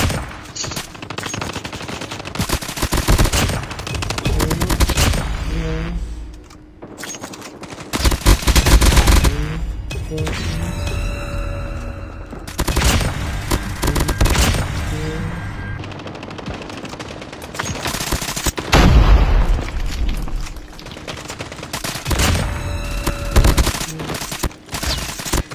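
Dense, loud bursts of rapid video game gunfire crackle almost continuously, with brief lulls between volleys of automatic shots and explosive blasts.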